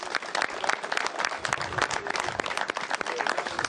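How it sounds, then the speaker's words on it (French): Applause from a crowd honoring the volunteers and organizing team at a French boat-fishing championship final, steady dense clapping throughout with a lively outdoor crowd feel. "On garde quelques applaudissements pour les bénévoles et cette équipe fabuleuse de la PPMA de"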